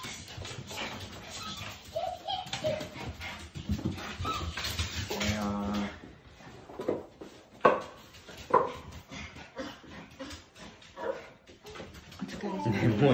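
A dog yips, barks and whimpers in short excited bursts at close range, mixed in with people talking throughout.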